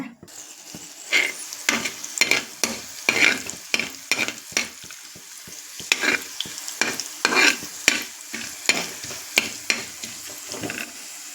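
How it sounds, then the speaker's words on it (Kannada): Coriander, cumin, mustard seeds, clove, cinnamon, star anise and a pinch of hing are dry-roasted in a pan, with a spoon scraping and stirring in steady repeated strokes amid light sizzling, close and clear. "ಈಗ ಕೊತ್ತಂಬರಿ, ಜೀರಿಗೆ, ಸಾಸಿವೆ, ಲವಂಗ, ದಾಲ್ಚಿನ್ನಿ, ಚಕ್ರ ಮೊಗ್ಗೆ, ಒಂಚೂರು ಹಿಂಗು ಹುರ್ಕೊಳ್ತೇನೆ."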